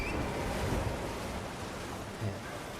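Rushing water from a waterfall in Elden Ring, a steady broadband roar with a windy, surf-like wash, continuous and fairly loud with no voices.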